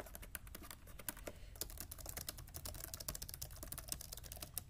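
Keys clatter steadily on a Lenovo ThinkPad T420 laptop keyboard, a dense run of close, crisp clicks with no talking over them.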